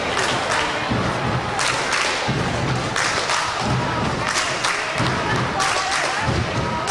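A women's college volleyball team does its pregame cheer in a gym: rhythmic thuds, stomps and claps repeat in bursts over a murmuring crowd, fairly loud and close.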